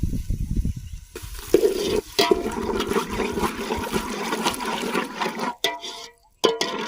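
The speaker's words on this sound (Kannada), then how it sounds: "ಇವಾಗ ನೀರು ಹಾಕ್ತಾ ಇದ್ದೀನಿ" Water pours steadily into a pan with a rushing, splashing flow for several seconds, ending in a few brief clinks and splashes.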